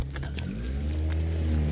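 A bus in a bus and truck simulator video game drives with a loud, steady low engine drone whose pitch climbs slightly as it pulls away.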